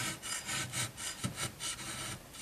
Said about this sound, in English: we were using the hewing hatchet, which has a flat side and a bevel side that would be the ideal tool for just trimming